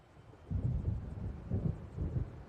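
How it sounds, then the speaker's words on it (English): Thunder from an approaching storm in Alan Wake Remastered rolls in as low, muffled rumbles that swell in three waves, fairly faint and distant, with no other sound. "It seems there's a storm coming."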